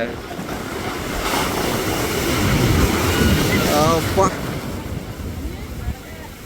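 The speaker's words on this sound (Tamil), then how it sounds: "இந்த பாருங்களேன் அலைய" Sea waves surge and roar continuously onto the shore at Poompuhar on the Tamil Nadu coast, with steady wind buffeting the microphone throughout.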